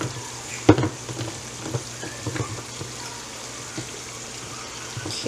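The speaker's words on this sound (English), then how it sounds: "it's starting to fry up a little bit" Mexican rice frying in a pan with added water, giving a steady close sizzle and light bubbling with a few stirring clanks, and no speech.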